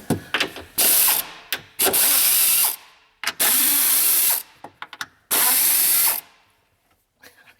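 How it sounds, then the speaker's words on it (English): Mini Taiwanese 3/8-inch impact air ratchet running in four loud, sustained bursts of roughly a second each, separated by short clicks and pauses, with a hissing high-pitched whir and no talking. "It's a Taiwan 3/8 impacting air ratchet mini, little miniature one."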